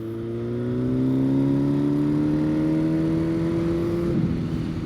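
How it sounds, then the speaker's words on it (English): A motorcycle engine blipped with the clutch pulled in, rising in pitch into a smooth whirring rev that holds for a few seconds, then drops back off sharply, close and loud with no talk. "So the clutch is in, a little throttle blip."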